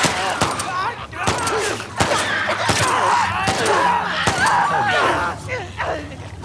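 Gunfire in The Last of Us Part II comes as a string of sharp shots and crackling bursts, some close together, mixed with game sounds while people talk over it.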